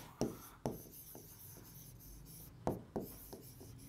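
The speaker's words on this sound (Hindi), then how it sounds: "सो हम यहां राइट करेंगे फाइव" Someone writes numbers by hand for a primary maths lesson, making quiet, close scratchy pen strokes in short separate bursts with brief pauses between.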